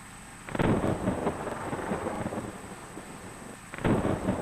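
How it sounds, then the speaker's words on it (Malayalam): Thunder cracks and rolls over steady rain in a bus simulator game, with two loud bursts, one near the start and one near the end, and a rumbling storm wash between them. "നല്ല ഇടി വെട്ടുണ്ട്"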